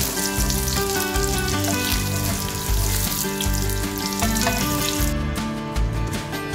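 Pointed gourd pieces frying in hot oil in a pan, a loud continuous close sizzle and crackle that eases off near the end.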